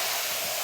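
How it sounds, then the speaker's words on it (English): A kitchen blender whirs steadily while blending curry goat ingredients, a brief continuous motor-and-blade roar up close with no talking. "Just gonna blend it a little bit in the blender."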